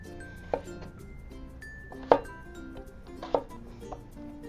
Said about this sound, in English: take our potatoes and cut them into wedges, leaving the skin on